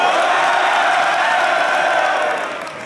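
A large crowd in a hall at a WNBF France natural bodybuilding show cheers and applauds in a dense, sustained roar that fades slightly toward the end, with no talk over it.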